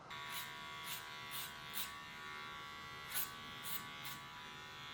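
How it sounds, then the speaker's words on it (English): A hair dryer blows hair upward while a barber shapes a flat top. Its motor buzzes steadily and close by, with repeated short airy whooshes as the airflow sweeps past, and no one speaks. "So I need to blow dry this up and try and get it level."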